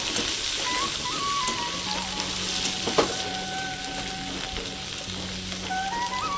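Potato and cauliflower with ground spices frying in a pan, a loud continuous sizzle with faint stirring, close up and without speech, on a rainy evening.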